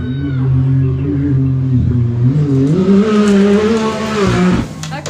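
A Can-Am Maverick R youth UTV races over tabletop jumps at a high desert off-road race in Powell, Wyoming, its engine droning loudly and steadily, pitch rising and dipping as it revs, then cutting off abruptly near the end.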